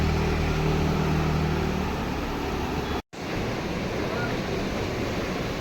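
Floodwater rushes out through the open gates of Pong Dam at Talwara, a loud continuous roar of torrent with wind buffeting the microphone, broken by a momentary cutout midway.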